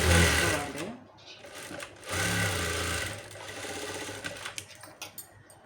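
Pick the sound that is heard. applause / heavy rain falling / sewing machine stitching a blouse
sewing machine stitching a blouse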